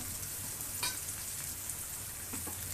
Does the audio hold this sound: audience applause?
no